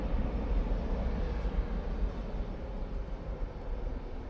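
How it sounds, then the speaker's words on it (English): An EasyJet Airbus A320ceo gives a low, steady rumbling roar at moderate distance, continuous and unbroken throughout, with no voices. "Tell you that's Easyjet A320 CEO."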